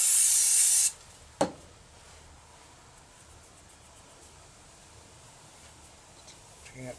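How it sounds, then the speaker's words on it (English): Carb cleaner sprayed onto the starter motor of a Yamaha Virago XV 535, one loud close hissing burst lasting about a second, followed by a faint tap and quiet background. "I'll give it my good old favourite carb cleaner"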